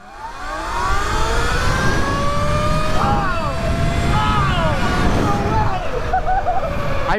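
A 72v Sur Ron BAC4000 electric dirt bike with a 64-tooth sprocket accelerates hard in a drag race beside another rider, its motor whine rising steadily in pitch and staying loud and close throughout.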